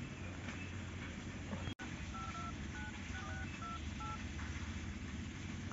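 A telephone keypad is dialed for a number, giving a run of short, separate DTMF beeps over a steady background hum after a brief dropout, with no voices.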